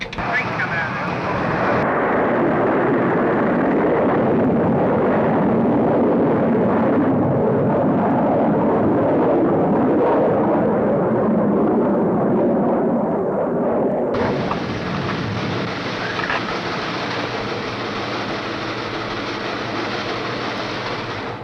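Explorer 1's launch rocket gives a loud, continuous broadband roar that holds steady for over twenty seconds, its tone shifting partway through as the missile climbs.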